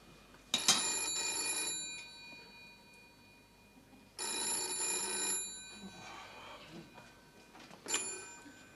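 Old-style telephone bell at a police station rings in three loud bursts, the first two about a second and a half long and the last short, with room tone between.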